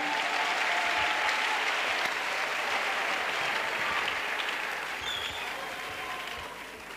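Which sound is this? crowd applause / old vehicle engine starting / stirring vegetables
crowd applause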